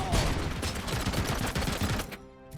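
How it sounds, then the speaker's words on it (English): Rapid machine gun fire rattles continuously in the shooter game Robocop: Rogue City, loud and dense bursts over game noise for about two seconds before cutting off abruptly. "That's a machine gun, isn't it?"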